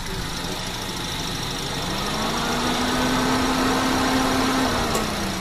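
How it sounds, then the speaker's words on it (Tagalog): A 2017 Toyota Vios engine with an unstable, fluctuating idle and shaking runs steadily nearby, a low droning hum that rises slightly in pitch and holds, with no voices. "Titignan natin kung gaganda yung takbo ng motor."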